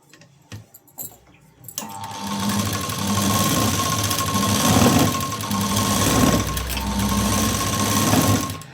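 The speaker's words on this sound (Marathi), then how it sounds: "अगदी आपल्याला कडेकडेला अशी शिलाई द्यायची आहे." A sewing machine stitches close along the edge, joining lining to main fabric: a few soft handling knocks, then a steady, loud running whir with a faint ticking needle rhythm, with no talking.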